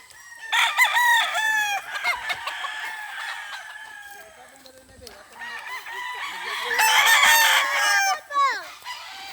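Several roosters crow loudly and repeatedly in overlapping calls, with chickens clucking and squawking close by in a busy farmyard chorus.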